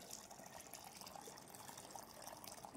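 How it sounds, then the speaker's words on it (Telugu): Cool water poured from a glass into a spiced cumin-powder drink mixture, a faint steady splashing trickle that runs throughout with no talk. "తర్వాత 3 గ్లాసుల వరకు నేను కూల్ వాటర్ని అయితే యాడ్ చేశాను"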